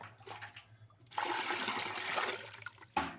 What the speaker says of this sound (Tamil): தண்ணி கலந்துக்கிடுவோம் இப்போ